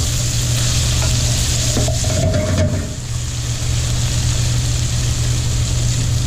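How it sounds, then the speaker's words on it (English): Two cloves of minced garlic stir and sizzle in a pan while shrimp and sausage paella is being made, a steady close frying hiss with a brief scrape of stirring partway through. "about 2 cloves of garlic minced. Give that a stirrer."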